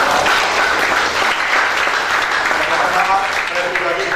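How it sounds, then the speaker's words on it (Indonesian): An audience claps together at a public dialogue event, loud, dense applause that holds steady throughout. "mari kita beri aplaus yang luar biasa"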